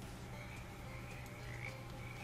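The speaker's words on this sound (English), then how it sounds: "Frogs are talking." A steady chorus of frogs croaks in a swamp in the video game Shadows Over Loathing, a dense, continuous bed of throaty calls with no one talking.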